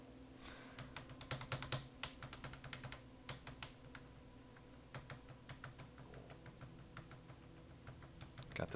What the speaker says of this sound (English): listen to me tap my keyboard with vengeance.